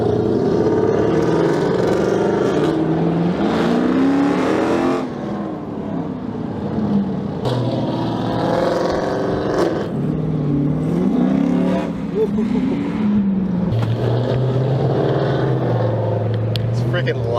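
A Dodge Charger R/T with long tube headers revs loudly up close, its engine note climbing and falling through repeated throttle blips, with people talking over it.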